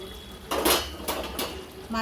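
A metal lid lifted off a cooking pot of chicken drumstick curry, giving a couple of short, close clanks and rattles over a quiet kitchen background.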